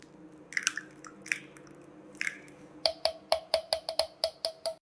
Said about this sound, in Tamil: இப்போது முட்டையை சேர்த்து நன்றாக அடிக்கிறோம்.